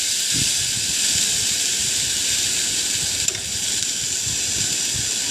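Onions fry in a pan with no oil as they are stirred, giving a steady close hiss and sizzle with soft scraping and clacking underneath, with no voices.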